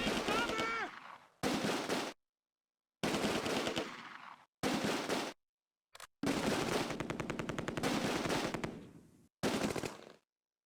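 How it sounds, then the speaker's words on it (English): MG42 machine gun fire in the Close Combat: A Bridge Too Far wargame, Operation Market Garden at Son Bridge: loud sustained bursts of automatic fire alternating with short pauses, several bursts in a row. "But the MG42 is still active"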